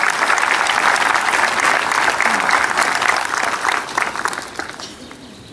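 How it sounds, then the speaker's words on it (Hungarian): An audience at a Hungarian primary school graduation ceremony claps steadily and loudly for students, a dense sustained applause that thins out toward the end, with faint birdsong outdoors. "Tapsoljuk meg a nyelvi eredményeket elért tanulóknak."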